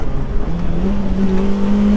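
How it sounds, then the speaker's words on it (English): A Toyota Celica T Sport's engine revs from inside the car while driving, a loud, close drone that climbs steadily in pitch as it pulls, with no talking. "The noise, the humming, this car's got character."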